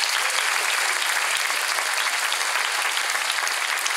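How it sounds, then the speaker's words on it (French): Steady, dense applause from a live show audience honouring the actors, loud and continuous for about four seconds with no talk over it. "Je pense qu'on peut applaudir les acteurs."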